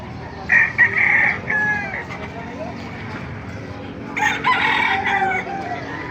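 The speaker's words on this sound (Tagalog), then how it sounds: "Ito yung mga manok. Gaganda." Roosters crow loudly nearby, two long calls with a pause between, while hens cluck and a farmyard murmur continues underneath.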